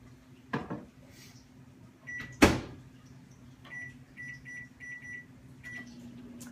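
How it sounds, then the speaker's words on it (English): A microwave oven hums steadily at low volume while a short run of high electronic beeps sounds in clusters, with a louder clunk of the door or cupboard midway. "the microwave just beeped"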